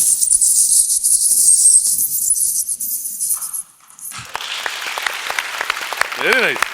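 A performer on a comedy stage vocally imitates a glass vessel falling and shattering. A steady bright hiss cuts off abruptly, then scattered sharp clinks and quick chirping sweeps follow, with some clapping.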